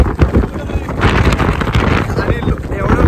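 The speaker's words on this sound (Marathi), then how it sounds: "इथं जामच वारा लोटतोय जामच." Strong wind at the seashore buffets the microphone in a loud, continuous roar of gusts and rumble, with no clear voices over it.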